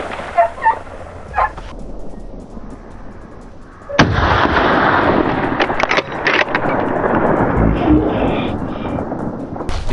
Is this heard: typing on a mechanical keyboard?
no